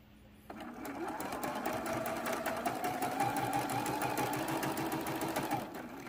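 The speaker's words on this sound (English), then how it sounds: "We are sewing this way." A sewing machine runs in one steady continuous burst, stitching quilt fabric pieces into a half-square triangle for flying geese blocks; the motor hum starts abruptly, stays loud and even, then stops near the end.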